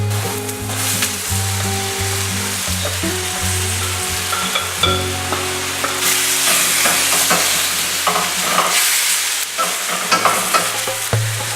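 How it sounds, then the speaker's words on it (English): Vegetables stir-fry in a pan with a splash of white rice vinegar. A loud, steady sizzle runs throughout, punctuated by frequent scraping and clattering from stirring, with no talking. "So I threw some white rice vinegar in there, and I'm going to throw the vegetables back in for a minute."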